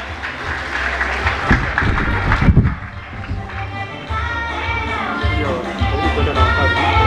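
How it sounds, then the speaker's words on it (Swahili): Audience at a seminary graduation certificate ceremony in Moshi applauding, as crowd clapping swells in bursts with a brief loud peak. Background music and a voice over a loudspeaker run throughout. "weka makofi kwa ajili yake tafadhali"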